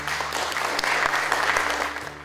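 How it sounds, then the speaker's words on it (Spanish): Steady applause from the audience at a municipal awards ceremony for healthy neighborhood shops in Miraflores, a continuous dense clatter of many hands alongside a low steady hum, with no talk over it. "para quienes pido un fuerte aplauso"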